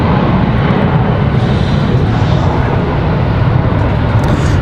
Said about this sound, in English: Nice early rotation for the A319.